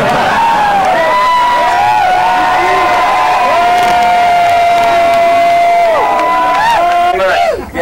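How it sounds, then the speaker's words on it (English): A crowd at a 1988 Grand Prix motocross race at Unadilla, New York, cheers and whoops loudly and continuously, with shrill overlapping shouts and whistles throughout before fading at the very end. "This is a great crowd."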